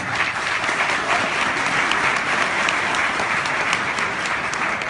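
A large crowd at a speech event breaks into sustained applause, a steady dense roar of many hands clapping at an even loudness from start to finish.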